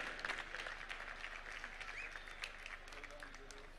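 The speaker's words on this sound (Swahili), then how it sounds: "Tumpongeze tena kwa makofi Governor Dr. Julius Malombe." A crowd applauds Kitui Governor Dr. Julius Malombe at an outdoor Mashujaa Day gathering, a faint, steady wash of distant clapping that continues throughout, with a voice speaking over it.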